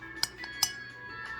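A metal teaspoon clinks while measuring matcha powder. Two crisp, bright clinks are followed by a couple of fainter taps, close and quiet in an otherwise still room.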